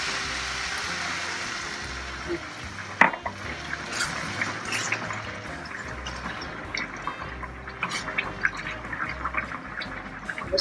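Water being poured into a cooking pan while making spaghetti bolognese, a steady close gush and splash with sizzling and a clank of the pan, running continuously for several seconds.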